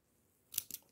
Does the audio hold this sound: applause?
no